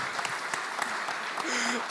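Audience applause at an award ceremony for the QA of the Year nominees and winner, a dense clapping crowd nearby with some talk mixed in.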